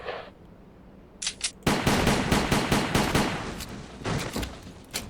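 Bursts of automatic gunfire crack out in S.T.A.L.K.E.R. Clear Sky: a couple of short pops, then long, loud rapid volleys with brief gaps, close and dense, without talk.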